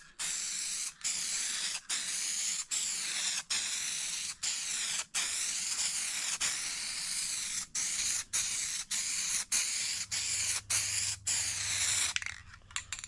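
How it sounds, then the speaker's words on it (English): An aerosol can sprays a protective coating onto a rusted sign, the close, steady hiss running almost without a break and cut only by a few very short pauses. "So let's get this sprayed"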